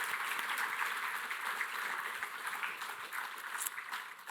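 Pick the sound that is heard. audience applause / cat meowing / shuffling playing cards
audience applause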